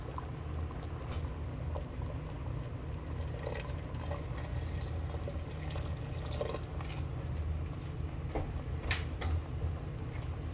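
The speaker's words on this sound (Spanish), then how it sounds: "Le voy a agregar un poco más de agua" Water pours in a quiet, steady stream into a pot of green tomato chipotle sauce with meatballs, with a few faint clinks.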